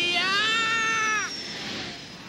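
A cartoon cat lets out a loud, drawn-out meow that bends upward and then fades into a hissing whoosh, heard on its own with no talking.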